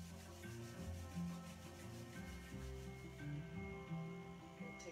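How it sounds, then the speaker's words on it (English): Palms rub together at chest level during a chakra meditation, a quiet, close, dry swishing friction in a few uneven back-and-forth strokes. "rub the palms together at the center of the chest."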